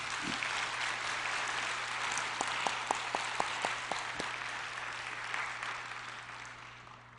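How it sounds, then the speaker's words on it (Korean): A church congregation claps for its worship team and choir during a Sunday service, moderate sustained applause in a reverberant hall with a few distinct louder claps standing out midway, fading gradually at the end over a low hum. "우리 찬양팀과 성가대를 위해서 한번 박수로 한번 격려해 주시기 바랍니다"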